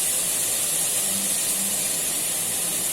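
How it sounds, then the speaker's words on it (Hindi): Oil heating in a hot pan over medium-high flame for mutton qeema, giving a steady, even hiss with faint sizzle throughout and no voices. "अब 2 टेबल स्पून में ऑयल के ऐड करने लगे"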